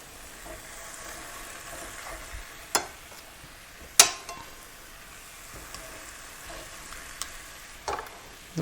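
Chicken pieces sizzling in a hot pan for a Sicilian chicken cacciatore, a steady frying hiss with a few sharp clatters and taps of a utensil against the pan, close and fairly quiet, with no talking.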